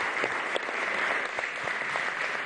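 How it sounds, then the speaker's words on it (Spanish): Audience applause at a Venezuelan government swearing-in ceremony for the vice president and ministers, honoring Andrés Izarra; steady, dense clapping from a crowd throughout, fairly loud and continuous. "Vamos a darle un aplauso a Andrés."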